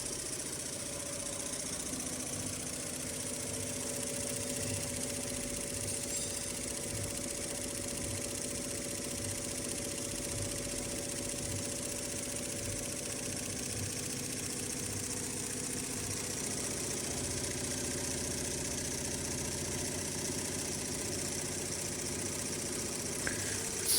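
A computer embroidery machine runs in a manufacturing unit with a steady mechanical hum and a rapid repetitive knocking throughout, loud and continuous with no talk.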